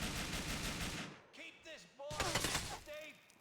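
Grenade blast and gunfire in Grand Theft Auto IV, a loud dense burst of explosive noise for about a second, then quieter game sounds and another loud crackling burst with tonal effects.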